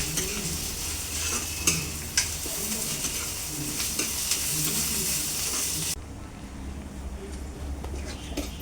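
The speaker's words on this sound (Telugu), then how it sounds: "అల్లం వెల్లుల్లి పేస్ట్ పచ్చివాసన పోయే వరకు వేయించుకోవాలి." Ginger-garlic paste sizzles and fries in a pan for a chicken masala curry. A spoon stirs and scrapes through it with occasional metallic clinks, and the hiss stays steady and close throughout.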